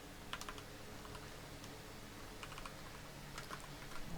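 Keystrokes on a computer keyboard while entering an ipconfig command, coming in short clustered bursts of clicks with pauses between them, fairly quiet over low room noise with no one speaking.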